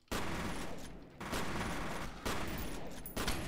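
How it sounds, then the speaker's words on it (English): Sustained rapid gunfire from a gun in the video game F.E.A.R., loud and continuous in dense bursts with brief dips around one and two seconds, no talk over it. "I love this gun."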